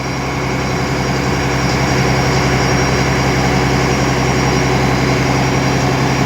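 A boat engine drones steadily and loudly as the boat heads toward the jetty, a dense, constant roar with no breaks.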